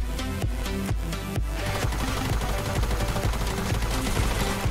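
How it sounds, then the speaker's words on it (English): Minigun gunfire in the Fortnite battle royale game, rapid continuous loud bursts filling the whole stretch over a dense backdrop of game sound. "Got him. With the minigun."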